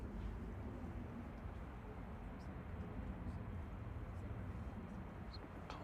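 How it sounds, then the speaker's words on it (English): At Manchester Airport, a Ryanair airliner taxis in the distance, heard as a faint, steady low engine rumble that holds evenly throughout. "Look at the first Ryanair taxiing over here."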